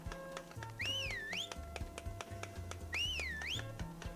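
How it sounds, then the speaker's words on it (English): Two rising-and-falling whistled melodic phrases from the video game Harvest Moon: Magical Melody, each clear and tuneful, set over quiet rhythmic game music and soft tapping. "I'm gonna do the whistling note first."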